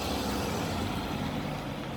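A car passing on a road, heard as a broad steady wash of engine and tyre noise at moderate loudness for two seconds, alone without talk.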